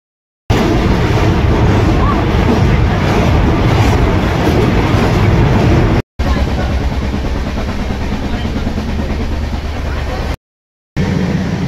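A train stands at Surat railway station, its steady, dense rumble and roar filling the platform at close range, with brief dropouts in between.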